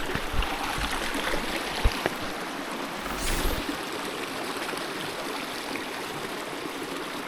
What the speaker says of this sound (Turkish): Bayağı da bir su akıyor şu anda.